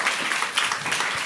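Audience applause at a startup pitch competition fills the room right after a presentation: dense, steady clapping from a sizeable crowd, close and continuous, with no voices above it.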